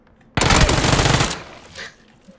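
A rapid automatic burst of gunfire from the video game PUBG, loud and dense for about a second, then trailing off with echoing reverb.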